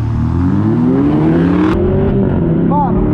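Chevrolet Camaro V8 and Jaguar F-Type 2.0 Turbo accelerating hard in a street drag race, loud rising engine roar with gear changes and a brief high whine, recorded from inside a car.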